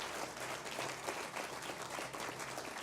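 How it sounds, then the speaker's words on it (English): Audience applause at a groundbreaking ceremony for a wellness center: dense, steady clapping from a crowd, sustained and fairly even throughout with no break. "she deserves another round of applause for this"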